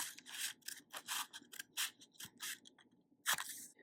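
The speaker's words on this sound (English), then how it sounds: "I can cut it as a strip." Scissors cut through paper for an oracle card collage in a rapid series of close, crisp snips and rustles, irregular in rhythm and quiet overall.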